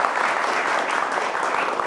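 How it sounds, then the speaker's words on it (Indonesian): Studio audience at an Indonesian television talk show applauds steadily, a dense, even wash of many hands clapping without pause. "Kami hadirin tepuk tangannya buat Ustadz Dery Sulaiman."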